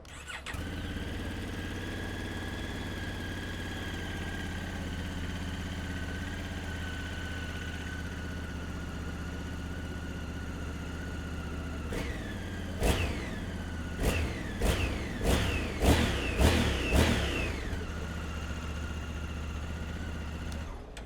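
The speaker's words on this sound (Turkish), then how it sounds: "Bir ilk marş videosu da çekelim şimdi." A newly bought motorcycle idles steadily and close at hand, then its engine is blipped through a series of sharp, rising revs in quick succession near the end, with no talking.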